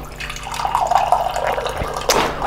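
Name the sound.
Vitapur water dispenser pouring cold water into glass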